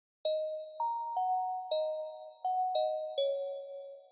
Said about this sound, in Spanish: campanillas o bills.